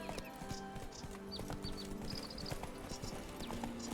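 Horse hooves clip-clopping at a steady walking rhythm in The Witcher 3: Blood and Wine, clear and close over quiet ambient game sound with faint chirps.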